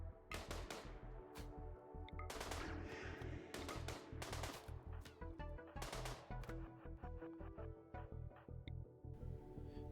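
Rapid automatic weapon fire in the RimWorld video game, loud repeated bursts of rattling shots in close succession filling the whole stretch, with brief gaps between volleys.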